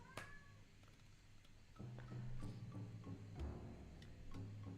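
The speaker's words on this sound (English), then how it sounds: "Please stop meowing." A pet cat meows repeatedly at close range, a string of plaintive calls with short pauses between them, faint and with no talk over it.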